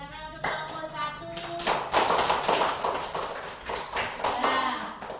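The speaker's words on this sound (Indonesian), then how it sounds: "tepuk tangan untuk kelompok 1" A classroom of students claps for group 1, a loose, uneven round of hand claps and taps with voices mixed in.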